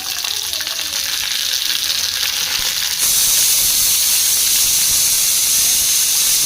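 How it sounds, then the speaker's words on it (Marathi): Green chillies fry in a pan with a constant steamy hiss that grows noticeably louder and harsher halfway through. "मिरची मस्त फ्राय व्हायला टा ठेवली मी"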